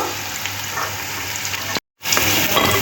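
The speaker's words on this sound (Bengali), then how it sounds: "দেখুন খুব সুন্দর লাল লাল করে ভেজে নিয়েছি আর উঠিয়ে নেব" Chicken fingers frying in hot oil give off a loud, steady sizzle that cuts out briefly before resuming just as strong.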